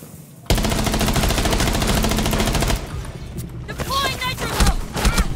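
Rapid automatic gunfire from the tactical shooter game Rainbow Six Siege, a loud sustained burst for about two seconds followed by scattered shots and game effects, with speech mixed in.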